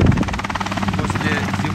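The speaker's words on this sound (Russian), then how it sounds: "Проверяю все системы своего вертолета." A CH-7 Kompress light helicopter with a Rotax engine, burning ordinary car petrol, runs loud and close. Its rotor gives a steady rapid chop over the engine drone, and someone talks over the noise.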